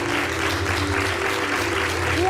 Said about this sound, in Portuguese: Para quem eu peço desde já um grande aplauso.